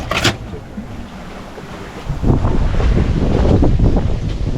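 Wind rushes past on a sailboat under way, a loud, gusting roar buffeting the microphone, strengthening partway through over the wash of water against the hull.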